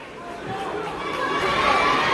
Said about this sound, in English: Crowd gets in an uproar a little bit.